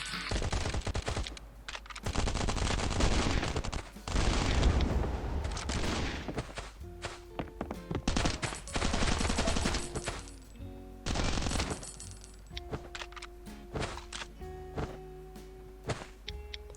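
Rapid gunfire bursts in the survival game Last Island of Survival, loud and repeated in clusters with short gaps, trailing into sparser single shots and clicks.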